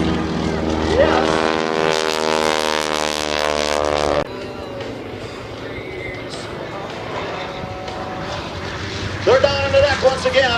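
Yak 52 propeller aircraft roar past at an air show, a loud buzzing engine drone that drops in pitch as they go by, with a commentator speaking over it and another engine surge near the end.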